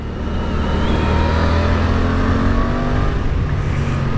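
Suzuki GSX-8S road motorcycle engine running steadily while being ridden in third gear, a loud continuous drone with wind rush and no talk.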